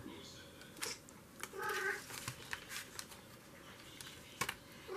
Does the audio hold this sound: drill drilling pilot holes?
no